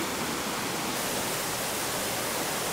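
Waterfall in Bali swollen after rain, a steady, loud broadband roar of falling water filling the whole moment without a break.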